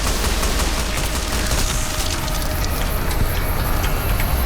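Continuous loud gunfire from a firefight in Fallout: New Vegas, a dense, rattling barrage that holds steady for the whole stretch with no pauses.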